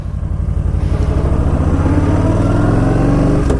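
A Yamaha motorcycle engine runs loud and close at a steady idle with a rapid pulsing beat, the pitch rising slightly before a brief click near the end.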